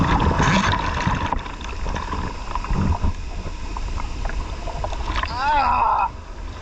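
Big ocean surf waves rolling and crashing, a continuous loud broadband wash of water heard close, with shouting voices over it.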